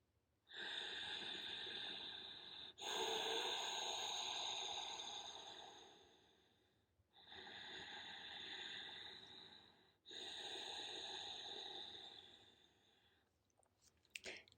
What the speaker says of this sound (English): And that is Ujjayi breath.